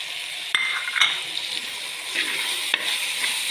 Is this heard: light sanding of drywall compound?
no